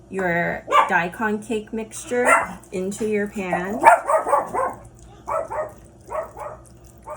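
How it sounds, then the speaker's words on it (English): A pet dog barks repeatedly in a home kitchen during a cooking demonstration for a Lunar New Year daikon cake, sharp barks mixed in with and following a person's steady nearby talk. "Sorry, that was my dog."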